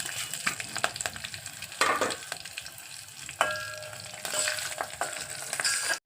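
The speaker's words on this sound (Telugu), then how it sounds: "టమాటా, ఒక 2 వంకాయలు తాలింపు పెడుతున్నాను చూడండి" Garlic, curry leaves, dried chillies, cumin, mustard seeds and urad dal tempering in hot oil, a steady close crackling sizzle with occasional scrapes and stirs, no voices.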